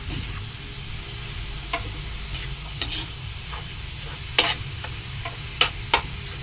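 Ground meat sizzles steadily in a hot pan while a utensil stirs and breaks it apart, with intermittent scraping clinks over a constant close frying hiss.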